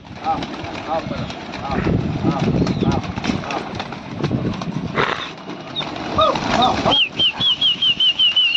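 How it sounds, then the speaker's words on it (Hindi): Bursts of flapping wings as pigeons take off and fly during a pigeon-flying hobby session in Lucknow, mixed with crowd noise and voices, ending in a series of whistling chirps. "फिर से उड़ा दिया गया है कबूतर को।"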